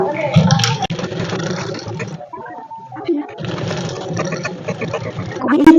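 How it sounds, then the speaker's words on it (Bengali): A sewing machine stitches a blouse, running steadily and close with a brief pause partway through. Someone talks over the machine. "যে আমি সেলাইটা করেছিলাম ঠিক তার উপর দিয়ে আমি সেলাই করে দিচ্ছি"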